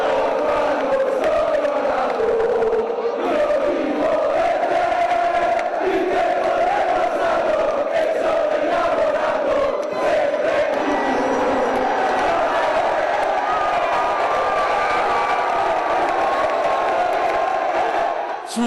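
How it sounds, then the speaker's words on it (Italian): Treviso basketball fans roar and cheer in the street outside Porta San Tommaso as the city's team returns to Serie A, a loud, dense crowd of sustained shouts and whoops that carries on steadily throughout. "davanti a Porta San Tommaso esplode l'urlo di gioia dei tifosi"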